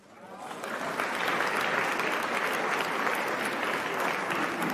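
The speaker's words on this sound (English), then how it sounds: "What you guys are applauding for?" An audience applauds at an event where the Kenyan president is speaking, the clapping rising quickly from near silence into a broad, steady wash of many hands that continues to the end.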